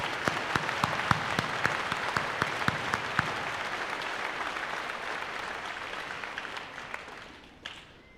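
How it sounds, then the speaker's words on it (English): Middle school honors night audience applauding the students, a full round of clapping in a hall that holds steady then tapers off near the end. "I would like to give them all one more big round of applause."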